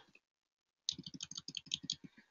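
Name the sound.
pressing a key on a computer keyboard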